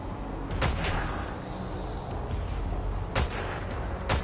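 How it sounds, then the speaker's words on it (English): Sniper rifle shots in the video game Metal Gear Solid V: The Phantom Pain, two sharp cracks about two and a half seconds apart over a low, rumbling ambient background. "Am I gonna try to shoot this guy all the way from across the map?"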